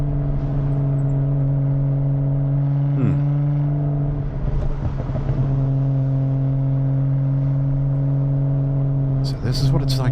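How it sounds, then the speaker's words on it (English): A fairly fast car's engine hums and accelerates through the streets of Kyoto, a steady close drone with brief rises in revs, while people talk over it inside the cabin. "Oh, listen to that engine."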